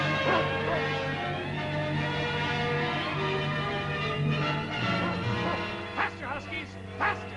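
Sled huskies bark and yip amid a busy, music-laden scene, with a few sharper barks standing out near the end over a steady low drone and voices.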